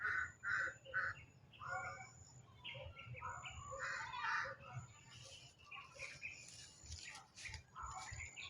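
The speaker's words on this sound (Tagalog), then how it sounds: "Yan mga idol, kaingay ng ibon dyan." Birds chirp and call busily in the distance, a noisy outdoor chorus of tweets with faint background rumble.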